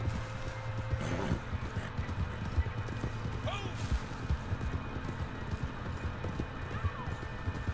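Horse hooves clip-clopping in Red Dead Redemption 2: steady, rhythmic hoofbeats at a trot, moderately close, with game ambience and a brief neigh-like whinny, under intermittent talk.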